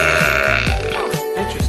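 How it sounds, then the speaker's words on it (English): A man lets out a long, loud, gurgling burp after chugging soda. It is deep and close, with a few rhythmic grunting pulses running through it. "apparently I do burp from just pop in general"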